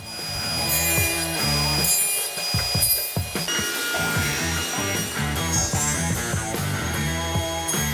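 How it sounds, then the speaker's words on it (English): A saw cutting half lap joints into wooden workbench legs, a steady loud rasping cut running throughout with a brief lull partway through. "I could get the top half laps cut on all 6 legs"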